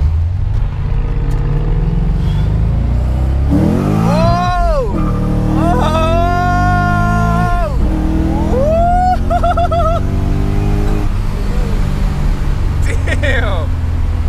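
Nissan 300ZX fitted with a swapped VH45 V8 accelerating hard, its loud engine climbing through rising sweeps with gear changes, heard from inside the car under excited talk.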